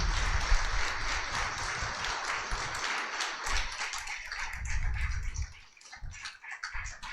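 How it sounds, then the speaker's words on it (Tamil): A church congregation at a Christmas mass clapping hands loudly and continuously, a dense wash of many palms filling the hall, easing slightly toward the end. "நல்ல ஜோராக கைதட்டுங்களேன்"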